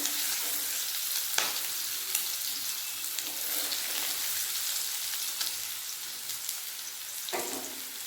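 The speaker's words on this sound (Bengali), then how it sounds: "সাদা আলু ভালোভাবে লাল লাল করে ভাজা হয়ে গেছে" Potatoes and pointed gourd frying in oil give a steady crackling sizzle close by, with a few sharper spatters and stirring scrapes scattered through.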